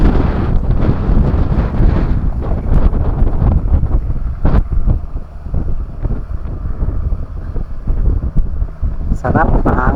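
Steady gusting wind at the seaside near Monte Maria Shrine in Batangas City buffets the microphone with a continuous low roar throughout, with faint background voices.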